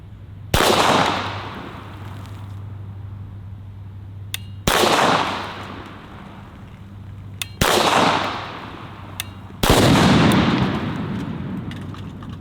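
Mac-11 submachine gun fired at a case of Mellow Yellow soda: four loud, sharp reports spaced a few seconds apart, each with a ringing decay, outdoors with no talking.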